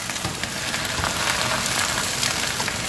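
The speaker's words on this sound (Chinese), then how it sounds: "给大家听一下，我们这个菜哦饱饱饱的声音是很好听耶。" Youmai lettuce stir-fried with miso in a wok gives off a dense, even crackling sizzle like heavy rain, loud and close and steady throughout, with no voices.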